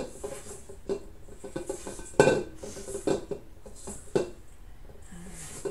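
Folding a batter in a tall bowl produces a run of spoon-on-bowl clinks and scrapes, with a few sharper knocks against the side, close by and moderately loud.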